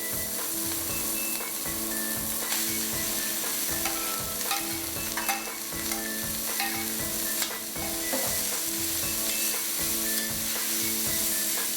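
Minced meat frying in a pan for stir-fried macaroni, a loud continuous sizzle with rhythmic scraping and clinking of a spatula as it is stirred, close up and without talk.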